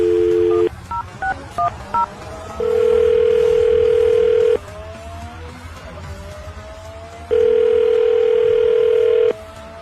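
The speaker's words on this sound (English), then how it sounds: "I'm going to dial the phone number right now" A phone dial tone, then a quick series of touch-tone keypad beeps, followed by steady ringback-style tones, loud and close with no talking.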